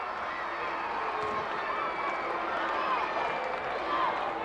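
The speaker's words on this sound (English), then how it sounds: "The very respectable crowd not liking it too much." A sizable gym crowd at a 1985 Section V Class AAA boys basketball championship murmurs and grumbles in steady disapproval after a foul, a broad indistinct wash with an announcer talking over it.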